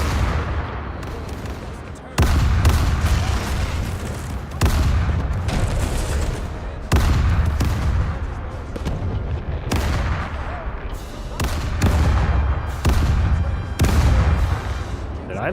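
Ship cannons firing in a naval battle against the Dutch navy in the video game Caribbean Legend: repeated loud booming volleys at a steady rhythm over a continuous rumbling battle din.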